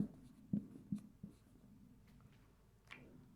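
Chalk or marker writing a short sentence on a board, a few quick scratchy strokes in a quiet room, close and fairly soft, with no talking.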